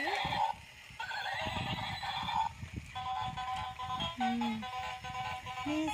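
A battery-powered toy zebra plays electronic horse neigh and whinny sounds, bright tinny tones repeating steadily and close, with faint mechanical clatter underneath.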